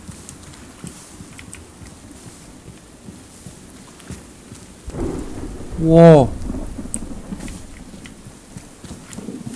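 Thunder rumbles in a Minecraft fantasy world, a low roll building near the middle and swelling into one loud crack over steady rain-like game ambience, with a short spoken exclamation.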